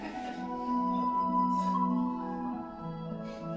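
A slow, sustained pop ballad plays with held notes and soft backing, smooth and moderately quiet, with no speech over it.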